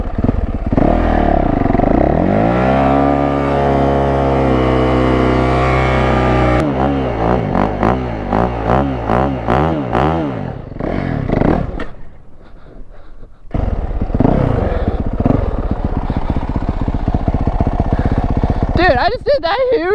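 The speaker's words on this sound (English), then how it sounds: "I just did that huge burnout" A Yamaha YZ125 dirt bike revs hard during a burnout, its loud, close engine tone sweeping up and down in repeated surges before cutting out briefly and roaring back; a voice is briefly heard.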